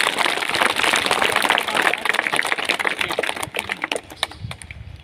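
School audience clapping for the headmaster at an International Women's Day celebration, dense sustained applause that thins toward the end into a few scattered claps.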